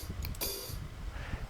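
A single open hi-hat hit from QBackbeats drum machine software, a bright splashy cymbal hiss that rings briefly and fades, heard alone.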